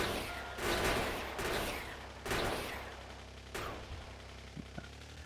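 Automated gun turrets in Factorio fire on attackers in sharp bursts, several loud volleys separated by brief lulls, with smaller pops trailing off near the end.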